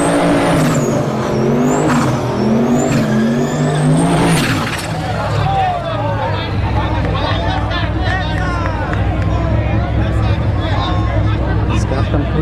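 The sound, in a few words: 1970s Ford mini pickup truck with turbo at drag race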